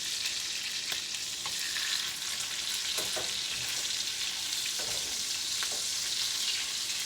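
Herb goat chops sizzle loudly in a frying pan as their fat renders, a dense, continuous hiss with faint occasional scrapes and no speech.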